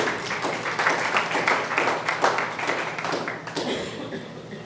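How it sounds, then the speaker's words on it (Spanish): A church congregation claps together in a lively burst of applause, many hands beating in quick uneven rhythm, loud and close, with a few voices mixed in before it tapers off. "Denle ese aplauso al Señor"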